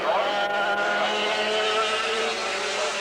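Stock dirt kart engines race past on a dirt track, a continuous loud buzzing drone with shifting pitch as several karts rev and pass at close range.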